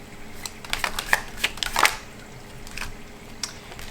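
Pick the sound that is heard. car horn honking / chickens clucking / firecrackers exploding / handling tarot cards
handling tarot cards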